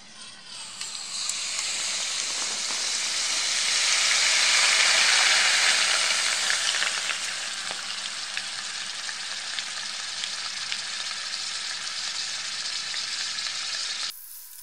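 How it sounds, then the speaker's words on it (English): Liquid nitrogen poured over a superconductor beneath a magnet boils with a loud, steady sizzling hiss that swells for a few seconds, then eases to an even bubbling until it cuts off. "Now I will put the magnet over and cool the superconductor down with liquid nitrogen."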